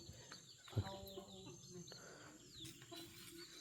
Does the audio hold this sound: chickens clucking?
yes